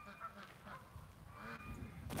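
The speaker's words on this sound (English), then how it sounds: "Well, the canada geese are still here" Canada geese honk faintly in the distance outdoors on a calm autumn day, a few scattered calls drifting over low background noise.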